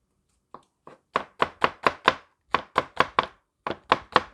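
Green onion sliced on a cutting board, a quick run of crisp knife chops in short bursts with brief pauses, close and clear with no talk.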